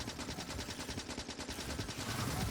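Rapid pistol gunfire in the video game Factorio, a steady stream of close, loud shots running without pause under constant game noise.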